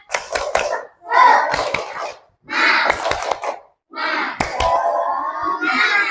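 A group claps together in quick rhythmic bursts, several rounds separated by short pauses, fairly loud and close.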